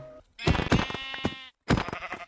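Minecraft sheep bleat twice in a row, loud and close, the first a long wavering call and the second shorter, with a short gap of silence between them.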